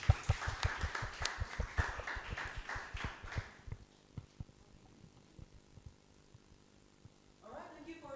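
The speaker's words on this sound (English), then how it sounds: "let us give a round of applause to Brian." An audience at a speaking event gives a round of applause that starts full and busy, then thins into a few scattered claps before fading out, ending with a brief voice.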